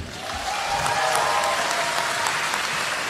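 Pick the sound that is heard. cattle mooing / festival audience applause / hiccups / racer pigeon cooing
festival audience applause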